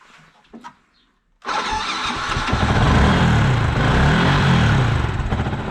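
A Yamaha YZF R125 motorcycle engine cranks and starts after a brief quiet pause, then settles into a steady, loud idle close by with no talking.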